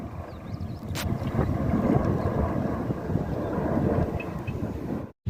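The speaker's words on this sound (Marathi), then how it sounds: "विमान किती खालून जात आमच्या इथून" A low-flying airplane passing over a groundnut field gives a broad, steady rumbling roar for several seconds, mixed with wind buffeting the microphone, before cutting off abruptly at the end.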